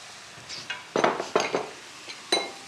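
A spoon stirs tomato-based chicken broth and spices in a pot for Louisiana jambalaya. Several close metallic clinks and scrapes come in short bursts against a quiet background.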